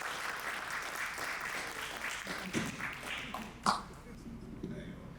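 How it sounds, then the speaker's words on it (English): An audience at a poetry open mic applauds as a poet walks to the stage, with steady clapping and a few cheers that thin out toward the end, overlapped by talking voices. "Clap him all the way up to the stage."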